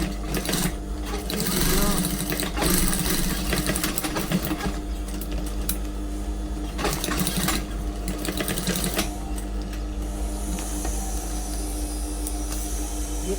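A sewing machine stitches a second reinforcing seam on a handmade fabric bag, running with a steady mechanical whir and rapid needle chatter in bursts over a constant low hum, close and fairly loud.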